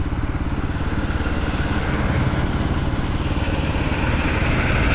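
A Honda XR150L motorcycle engine runs steadily while riding through Louisiana toward Kisatchie National Forest, a close, continuous pulsing drone with wind rush and no talk.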